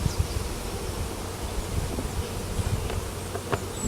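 Honeybees at a hive after a swarm make a dense, continuous buzzing drone, with occasional louder passes of single bees close by, all against open outdoor air.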